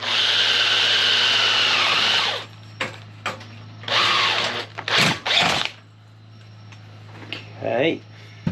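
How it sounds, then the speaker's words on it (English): A power drill whines steadily while boring a hole through a metal trolley part, then stops and gives a few short bursts, with a low hum underneath and people talking between the bursts. "I'm going to drill a hole in this one here"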